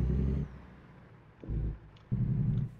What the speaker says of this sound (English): Got a nice engine brake too